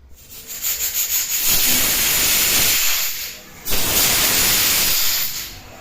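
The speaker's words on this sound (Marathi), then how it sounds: "चार शिट्ट्या करून घ्यायच्या आहेत" A pressure cooker cooking dal khichdi vents steam in two long, loud hissing bursts, with a brief drop in between and a faint whistling edge on top.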